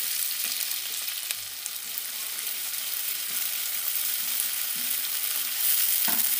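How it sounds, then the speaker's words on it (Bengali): Chopped onions sizzle steadily in hot oil with cinnamon and cardamom, a continuous bright crackle with occasional scrapes and knocks of stirring close by. "পেঁয়াজটাকে ভালো করে ভেজে নিতে হবে।"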